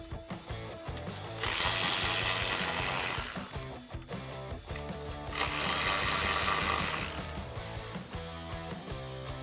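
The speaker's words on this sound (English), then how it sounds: "remove the two 10mm nuts so we can get this plate out of here" Ratchet wrench loosening two 10mm nuts on the mounting plate of a 2021-2022 Ford Bronco, with rapid clicking bursts in two long runs and mechanical tapping between them, close and clear.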